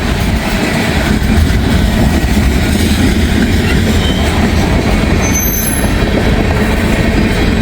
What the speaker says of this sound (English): Because there's a bunch of empty trash cars coming.